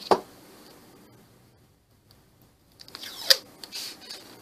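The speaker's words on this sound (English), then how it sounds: "Take old scissors and snip that off." Old scissors snip a strip of double-stick tape at close range: one sharp snip at the start, a quiet pause, then rustling and a second crisp cut with handling noise.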